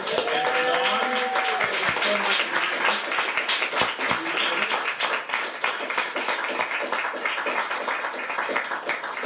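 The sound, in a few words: audience applause for a panel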